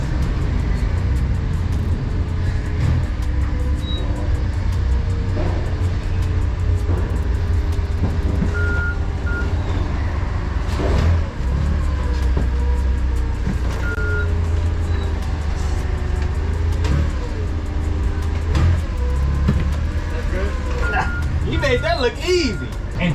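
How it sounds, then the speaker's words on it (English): Forklift truck pulling up in a warehouse, its rumbling engine running under repeated high reversing beeps, with a person talking over it throughout. "The fork truck pulling up on me."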